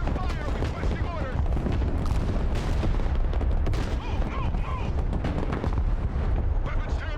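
Battlefield gunfire in the Broken Arrow war game, a continuous dense roar of rapid shots and heavy artillery-like thumps layered together, loud and unbroken, with occasional radio-style voices mixed under the barrage.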